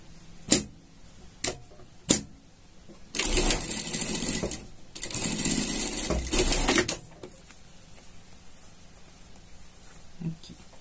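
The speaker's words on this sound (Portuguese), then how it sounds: "Vamos passar uma costura de segurança aqui" A sewing machine runs a safety seam on unicorn pajamas in two loud, rapid bursts of about two and three seconds, preceded by a few sharp clicks and followed by quiet handling.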